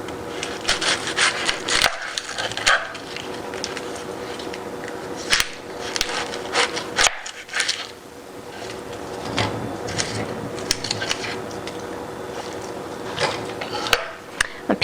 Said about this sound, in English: I'm going to chop up half of a red onion